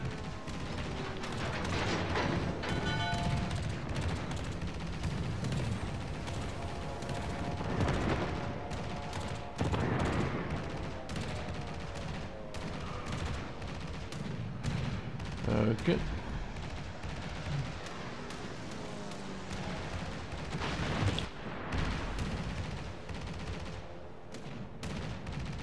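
Battleship Iron Duke firing its guns in a naval video game, with repeated heavy booming salvos and rumbling blasts spread across a dense, noisy battle soundscape at moderate loudness.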